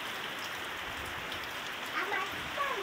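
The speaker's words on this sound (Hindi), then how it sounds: "पवन वर्षा" Heavy wind-driven rain falls with a dense, steady hiss, with faint voices briefly near the end.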